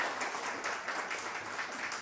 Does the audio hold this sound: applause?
yes